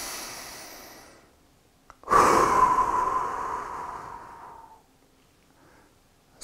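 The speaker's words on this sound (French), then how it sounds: "respirer profondément." One long deep breath close to the mic: a fading exhale, then a sharp intake and a long, strong airy exhale lasting a few seconds before it trails off.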